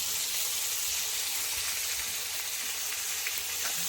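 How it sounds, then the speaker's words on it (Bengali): Ridge gourd pieces frying with hilsa fish in a hot pan give a steady, loud, dense sizzle that holds even for the whole stretch, with no voices. "ঝিঙেটা হালকা করে ভেজে নেব।"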